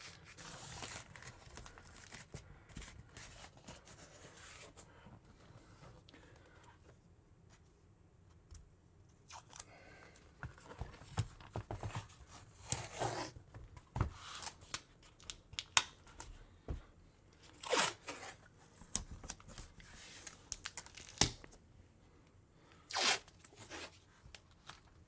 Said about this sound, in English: I'm using this painter's tape so it doesn't,